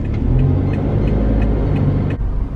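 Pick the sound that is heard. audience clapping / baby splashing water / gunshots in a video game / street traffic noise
street traffic noise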